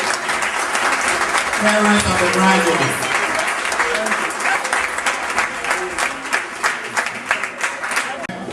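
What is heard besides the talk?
audience applause for graduates' parents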